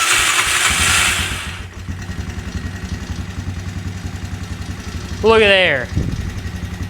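A 2004 Honda Recon ES quad with a burnt-out kill switch, choked and jump-started, idles with a steady rapid putter close by, a rising whine cutting in partway through, while a person talks over it.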